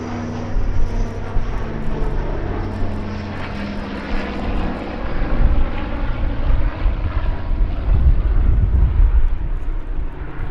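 A PBY Catalina flying at an airshow, its radial piston engines giving a loud, steady propeller drone that swells and rolls past close by, with no voices.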